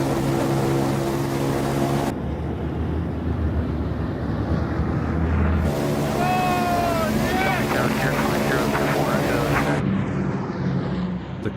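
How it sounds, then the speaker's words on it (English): Engines of a 1940s bomber drone in flight from inside the aircraft, a loud continuous roar with wind rush, shifting in tone across the clip. "This is the first for me to fly in a 1940s bomber."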